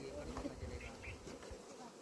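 Honeybees buzzing steadily around a hive box on a bee farm in Una, Himachal Pradesh, a close, continuous drone with faint background noise.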